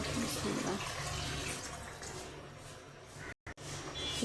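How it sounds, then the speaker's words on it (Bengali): Water poured into a cooking pan over sautéed eggplant to make gravy for a fish curry, a steady rushing pour running for about three seconds, then briefly cutting out before resuming. "এখন একটু ঝোলের জন্য পানি দিয়ে দেব।"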